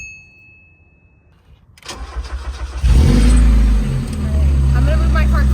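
A car engine cranks and catches after a quiet start, then settles into a loud, close idle with a brief rev as it fires up.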